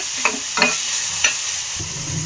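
Egg roll filling fries in a pan with a loud, constant sizzle, broken by three quick scraping stirs of a spatula early on.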